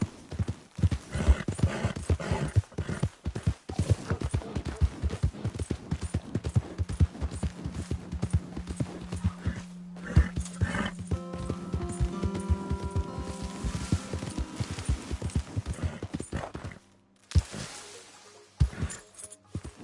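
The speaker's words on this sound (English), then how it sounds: "My horse!" Horse hooves clip-clop in a steady walking rhythm on a hard surface in an Old West setting, close and distinct, with a short neigh or whinny partway through and brief quiet gaps near the end.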